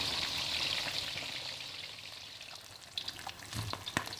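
Oil sizzles and crackles steadily as fish fries in a pan, a hissing fry with occasional sharper pops and spatters toward the end.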